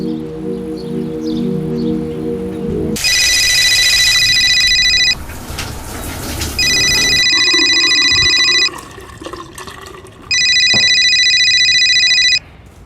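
A telephone rings three times in long electronic bursts with pauses between, preceded by a faint musical tone and some rustling in the background.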